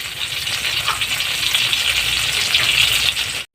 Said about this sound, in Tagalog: nilagay na natin ang eggplant